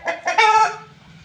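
A Dega breed hen on a farm lets out a short, close clucking call in quick rising bursts, loud and alone with faint background noise.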